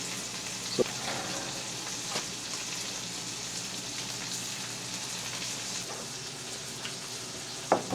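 Venison steak meat frying in a pan gives off a steady, faint sizzle, with a few sharp pops scattered throughout and no talking.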